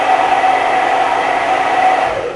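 A hair dryer set to cold air blows steadily and loudly at close range while a glued-in hair weave sets, a constant whooshing hum with no breaks.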